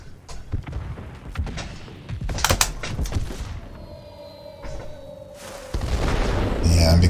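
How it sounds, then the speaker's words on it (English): Bombs from a warplane's bombing run in World of Warplanes burst in a cluster of heavy booms and thuds over engine drone and scattered gunfire, followed by a steady rising roar. "Let's get this bombing run in."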